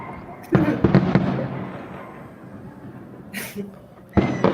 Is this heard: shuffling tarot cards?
no